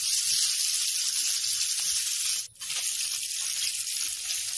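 Chicken fries in a pan with a loud, continuous bright sizzle and hiss, close up, briefly dipping for a moment midway before resuming, with no talk.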